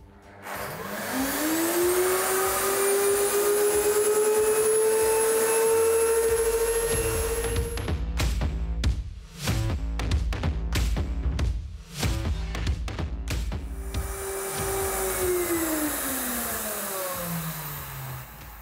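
A central vacuum system runs steadily at close range, its motor whine rising as it spins up, then a stretch of choppy bursts and fluctuations as the cordless handle switches suction, before settling into a smooth drone and winding down.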